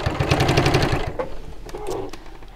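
A sewing machine stitches through thick fabric in a quick rapid burst of mechanical chatter that stops after about a second, followed by softer handling clicks and rustles.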